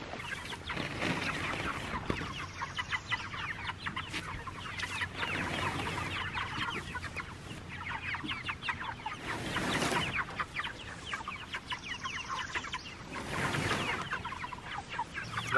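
Meat chickens clucking continuously in a flock, a dense, steady chorus of overlapping clucks and chirps close by with no voices.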